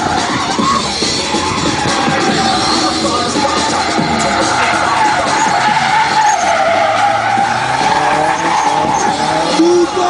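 A car drifts sideways around a frozen, partly wet track at a tuning show in Paris. Tires squeal and skid in a loud, sustained run over the revving engine, and a crowd can be heard faintly beneath.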